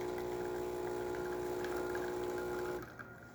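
A Saeco Pico Baristo espresso machine pumps while brewing coffee, giving a steady buzzing hum up close that cuts off near the end, leaving quiet drips.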